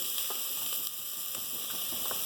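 Onions frying in hot oil in a pot for a CKP-style chicken curry, a steady soft sizzle with faint crackles throughout, close and fairly quiet, with no talking.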